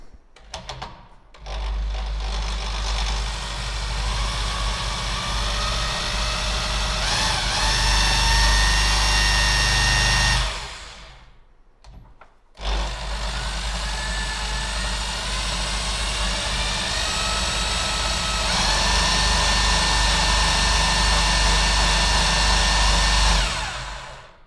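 A steady high whirring drone runs for about ten seconds, cuts out briefly, then resumes at the same pitch: a power drill spinning a Peugeot 205 GTI 1.9 alternator clamped in a vise.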